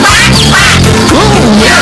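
A voice imitates the quacking of a little yellow duck on a farm in a children's song, giving loud, close, repeated nasal quacks in a short burst. A few spoken words are mixed in.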